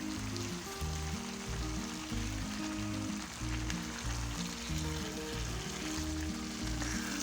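Grated carrots sizzle steadily in oil in a pan while gajar halwa is cooked, a soft continuous frying hiss under quiet background music with no talking.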